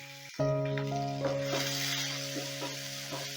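Crushed garlic cloves fry in a pan alongside whole cumin seeds, breaking into a sudden sizzle that then hisses on steadily and gradually eases, over a low sustained hum.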